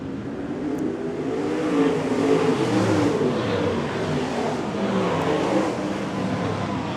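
Modified race cars roar around a New Zealand track during a heat, engines revving loudly and continuously in a dense, sustained blur of multiple cars.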